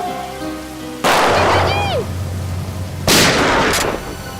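Two sharp, loud gunshot blasts about two seconds apart, each followed by a noisy decaying echo, with a low steady hum beneath.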